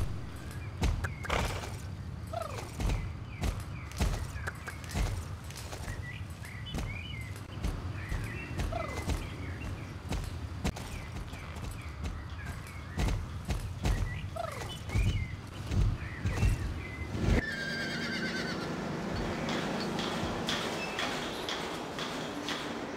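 A horse in the online riding game Star Stable Online gallops with a steady, rhythmic drumming of hooves. Occasional high whinny-like calls rise above the hoofbeats, which end in a softer, steadier ambient tone.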